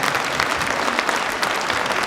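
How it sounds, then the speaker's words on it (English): Audience applause at a fa'afafine pageant show in Auckland, a full, continuous burst of many hands clapping with a few louder individual claps standing out, heard alone without talk. "Big round of applause for contestant number 5."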